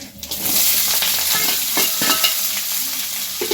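Cumin and mustard seeds, with chana dal, sizzle and crackle steadily in hot oil in a pan while making jeera rice, a loud continuous frying hiss with small pops close up.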